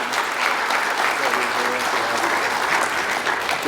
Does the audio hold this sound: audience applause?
yes